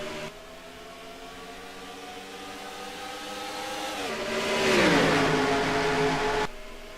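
Engines of a field of NASCAR-style race cars at Atlanta Motor Speedway in a racing video game, droning steadily, then surging and rising in pitch as they accelerate at the green-flag start before cutting off abruptly.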